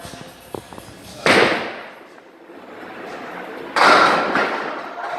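Candlepin bowling at an alley, two loud crashing impacts of ball striking pins, each a sharp hit with a clattering decay, the second following a quieter rolling stretch.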